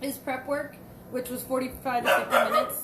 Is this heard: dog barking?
yes